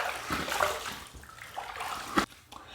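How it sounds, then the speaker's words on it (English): Water splashes and trickles while a razor is rinsed between passes of a traditional wet shave with bay rum lather, the sloshing steady and close with a sharper splash near the end. "First pass done, let's rinse."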